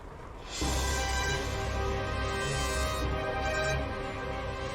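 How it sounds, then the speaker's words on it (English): A warship's engine in the Pacific naval strategy game Strategic Mind: The Pacific starts with a sudden rise into a steady, loud droning hum with layered tonal whine, sustained and fairly close. "Start the engine."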